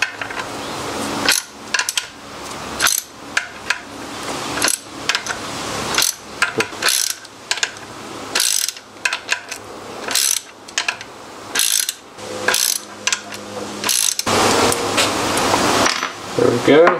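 A ratchet wrench clicks in bursts as it turns the camshaft bearing cap bolts on a BMW E36 engine, with quick ratcheting runs, metallic clinks and brief pauses, close up, with faint talk in places.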